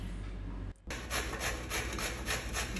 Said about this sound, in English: Grate zucchini.